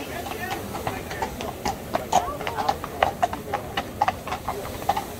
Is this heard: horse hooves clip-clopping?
yes